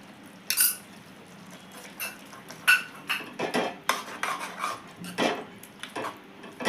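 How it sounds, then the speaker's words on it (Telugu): Curd is stirred into tomato roti chutney in a bowl with a spoon, giving loud, close, irregular clinks and scrapes against the bowl, with no talking. "పెరుగు వేస్తున్నాను."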